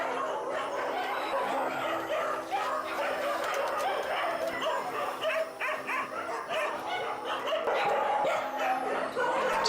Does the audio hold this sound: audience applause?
no